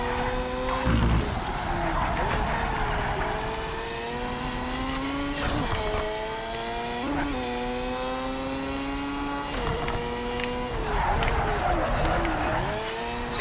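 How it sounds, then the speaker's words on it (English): A race car in a Formula 1 video game drifts with the handbrake, its engine droning steadily with rising and falling revs and bursts of tire squeal, while a voice talks over it. "we can really get this car to kind of drift out there, use a little bit of handbrake"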